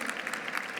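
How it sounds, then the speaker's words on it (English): An audience applauding panelists at the end of a conference session, a brief burst of steady clapping, moderately loud. "We can give them a round of applause."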